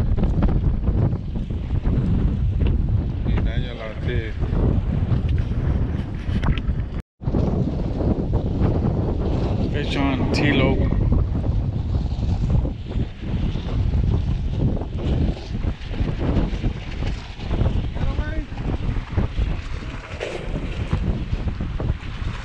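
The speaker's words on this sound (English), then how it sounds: "This way so it won't hear the wind." Strong wind buffets a microphone on a jetty in downtown Corpus Christi, making a loud continuous rumbling roar with gusty surges and a brief cut-out partway through, and no voices.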